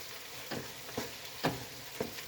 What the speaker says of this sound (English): Now I'm going to add half of the dry spiced ingredients right to that meat. Stir this up.